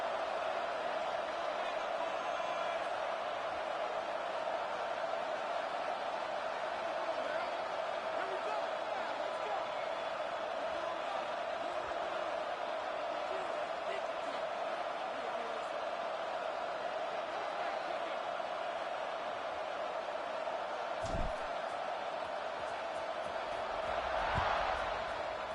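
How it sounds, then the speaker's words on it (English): A stadium crowd buzzes in the College Football 26 video game, a steady broad roar that stays constant throughout, with a louder swell near the end. Commentary is spoken over the crowd. "this crowd is buzzing after that last score"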